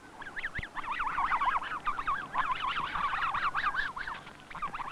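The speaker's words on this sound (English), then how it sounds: "The geese took off" Snow geese take off together, a dense chorus of repeated honking calls, fairly close and rising and falling in waves over a faint low background, with no voices.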